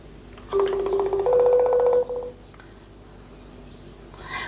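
While a call is placed, a phone's ringback tone sounds as two steady tonal bursts close by, the second slightly higher and longer, followed by quiet room noise.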